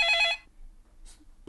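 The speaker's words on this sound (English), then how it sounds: "It's fucking been ringing for like fucking 5 days now!" A telephone bell rings loudly for a brief burst at the start, then stops, leaving quiet room noise with a few faint sounds afterward.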